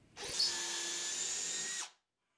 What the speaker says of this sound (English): I'm just going to be using a drill bit to make the hole in both pieces through which the bolt will go.